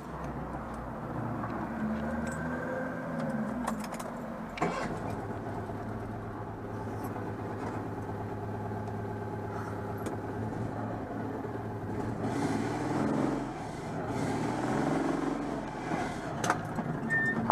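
A Citroën 2CV with a worn wheel bearing creeps into a garage, its small engine idling and droning low with a steady rumble, occasional knocks and clunks, and a rising grinding hum near the end.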